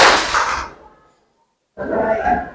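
A group of pupils in a classroom clapping together in a short burst, followed by a brief silence and a second loud burst of clapping, close and sharp.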